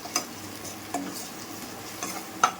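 Dal stirred and mixed in ghee, a low sizzle under a few light taps and scrapes of a spoon against the pan.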